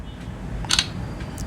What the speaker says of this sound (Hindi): तो यहाँ पे हम इसके जो कुछ सैंपल हैं उनको भी हम क्लिक करके चेक कर लेते हैं।